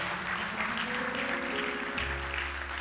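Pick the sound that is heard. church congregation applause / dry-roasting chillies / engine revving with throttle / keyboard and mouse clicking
church congregation applause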